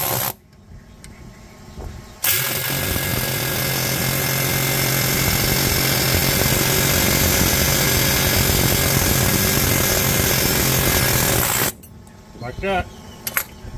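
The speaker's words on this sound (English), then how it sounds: "You just keep drilling it out until it's weak enough it breaks off." A power drill runs loud and steady for about ten seconds, grinding into metal while drilling out ball joint rivets on a Chevrolet Silverado 1500 pickup, with quieter workshop sounds before it starts and after it stops.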